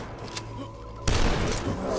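Gunfire in the retro first-person shooter DUSK on a crowded outdoor level, a quiet stretch broken by a sudden loud blast that rolls into a sustained rumbling barrage.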